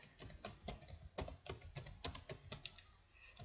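A computer keyboard is tapped quickly while a search is entered, a quiet, close run of crisp clicky keystrokes in an uneven typing rhythm with brief gaps, no voice.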